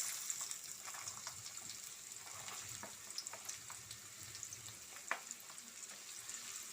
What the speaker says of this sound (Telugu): ఆయిల్ హీట్ అయిందండి. అది ఫస్ట్ క్యారెట్ వేసుకుంటున్నాను.